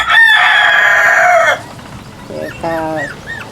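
A rooster crows loudly and long, then chickens cluck in short, choppy bursts nearby.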